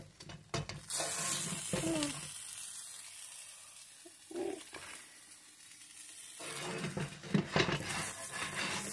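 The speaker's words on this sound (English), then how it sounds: "Get some wings on there. They're cooking up good." Spicy chicken wings frying in a pan, a steady sizzle running throughout with a few louder bursts and light clinks near the start and end.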